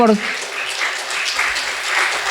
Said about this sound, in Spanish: Esas palmas alaban al Señor